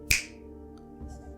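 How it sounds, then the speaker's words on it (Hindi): A single sharp finger snap, close and crisp, followed by near silence and a faint soft rustle. "उसकी एक चुटकी की आवाज"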